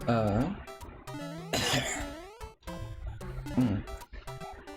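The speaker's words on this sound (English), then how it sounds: "that was just me clearing my throat" A person coughs and clears their throat several times in short harsh bursts, loud and close.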